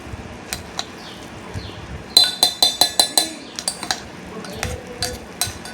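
Puffed rice with milk, sugar and biscuits is mixed in a bowl, and a spoon clinks and taps repeatedly against the dish in quick uneven bursts, close and crisp, with quiet gaps between strokes and no speech.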